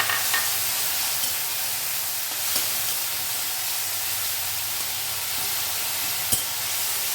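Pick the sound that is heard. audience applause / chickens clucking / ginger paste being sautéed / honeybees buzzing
ginger paste being sautéed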